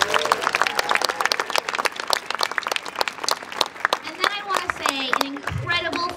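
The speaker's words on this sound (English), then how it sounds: "Please give them a huge round of applause." Audience applause at a December student performance, with crisp individual claps over a crowd, mixed with cheering and voices talking and calling out, growing busier toward the end.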